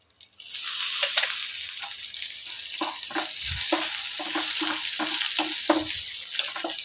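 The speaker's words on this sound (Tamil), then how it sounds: "தாளிக்கும் போது சீரகம் போடணும் போட்டுக்கோங்க சீரகம் பொரியட்டும்" Cumin seeds crackle and pop sharply in hot oil, a busy scattered spluttering over a constant close sizzle.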